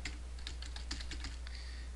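Rapid keystrokes on a computer keyboard as an address is entered into a 2009 desktop contacts program, an uneven run of light clicks close by, steady and alone with no voices.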